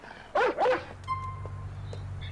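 Police K9 dog barking in GTA 4 during a county patrol: two loud, close, whining barks in quick succession, followed by quieter game ambience with a low steady hum and faint tones.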